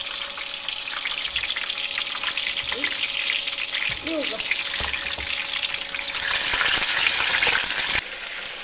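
Meat-stuffed chili peppers fry in a pan in a rural Northeastern Chinese kitchen, giving a steady close sizzle that grows louder before dropping off near the end, while people talk briefly over it.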